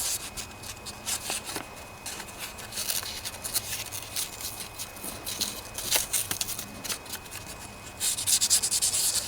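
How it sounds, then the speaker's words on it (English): Fine grit sandpaper scuffing rusty ball bearings from a Snapper riding lawnmower. Continuous close rasping rubs and scratchy strokes run steadily throughout, with no talking. "I'm going to scuff them up with some fine grit sandpaper here and make them all shiny again"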